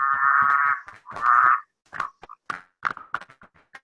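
Native frogs in Dunedin, New Zealand, calling close by: two long buzzing trills, then a run of short, sharp croaks and clicks in an irregular rhythm, with no talking.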